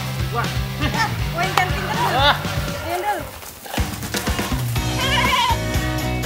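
Goat bleating in a rural pen area in Indonesia, several bleats rising over a steady background of music and people talking nearby.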